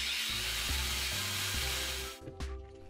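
A cordless brushless angle grinder fitted with a 125mm disc runs free in short bursts, a close, steady high whine with low motor hum that cuts off near the end and briefly restarts.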